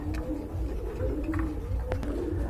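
Beauty Homer pigeons at a pigeon farm coo close by in soft, repeated throaty murmurs over a constant low background hum, with no voices.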